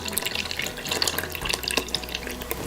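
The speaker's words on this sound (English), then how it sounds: "then just pour it over all that you have in the bowl" Warm milk and yogurt mix poured into a bowl of dough ingredients for Finnish cream cheese buns gives a continuous close liquid splashing and trickling, with no talk.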